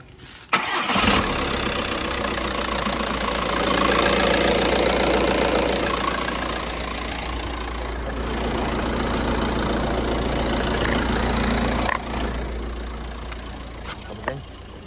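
A VW Touran minivan's engine cranks and catches within a second, then settles into a steady, fairly loud idle that runs on for the rest of the clip, briefly dipping near the end.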